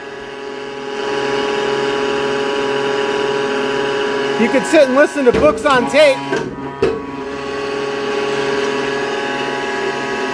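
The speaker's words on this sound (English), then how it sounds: "running a stamping press" A steady loud machine hum from a metal stamping press making copper ornaments, with a rapid burst of rhythmic mechanical clanks in the middle, and a person speaking over the noise.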